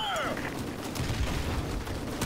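Dense gunfire in Call of Duty: Modern Warfare Remastered, a steady wash of shots and distant booms with no clear separate reports, under a continuous loud game soundscape.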